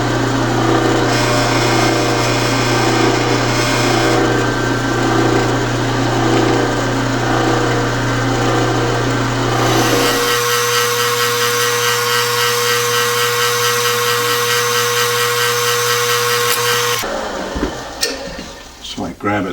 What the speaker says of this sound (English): I'm just going to drill the tapping hole.